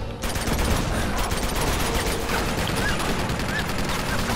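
A gun turret in Uncharted 2 rattles out rapid, continuous automatic fire, loud and dense throughout with no pauses.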